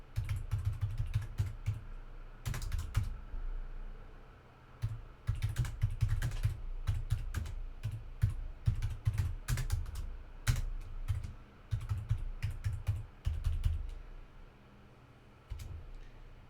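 Keys clatter on a computer keyboard as a password is typed, bursts of quick clicks broken by short pauses, close and clear with no talking.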